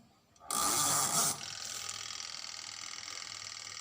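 A washing machine drum is turned by hand: a brief loud whirring rush, then a smooth, even mechanical hum with a light rhythmic whir, close by and without speech.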